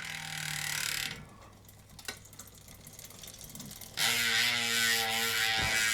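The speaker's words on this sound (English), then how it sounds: "Ooh, it's ratcheting. And it sounds noisy." A 29er bicycle rear hub fitted with a 60-tooth ratchet upgrade spins freely, its pawls giving off a fast, fine, even clicking buzz close to the ear, broken by a quieter stretch in the middle and a soft knock.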